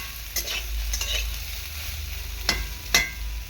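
Soybean chunks fry lightly in a pan with a steady, soft sizzle, broken by a few sharp scrapes of stirring.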